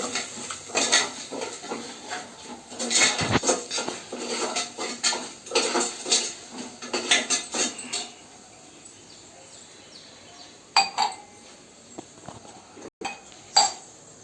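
Ingredients roasting in a pan are stirred over low heat, and a metal spoon scrapes and clinks against the pan in quick, rhythmic strokes. The stirring thins out to a few separate clanks toward the end, with no talking.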